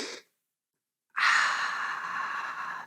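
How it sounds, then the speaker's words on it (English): One slow, deep breath drawn in through the nose, a soft airy inhale that swells and holds steady for about a second and a half after a brief exhale, close and quiet in a calm setting. "Breathe in your nose with me now. Nice, big, slow breath in."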